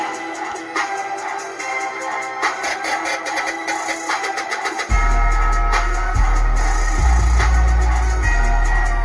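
A JL Audio subwoofer mounted in a speaker backpack and set into a room corner plays music loudly, its deep bass swelling into a heavy, steady boom about halfway through, with no talking.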